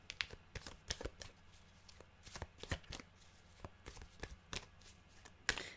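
Tarot cards being shuffled by hand, a rapid run of crisp riffling and slapping bursts, close and fairly quiet, with no talking.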